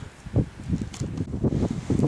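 Wind gusting into the microphone outdoors at a field site, producing low rumbling buffeting bursts that rise and fall irregularly, close and fairly loud.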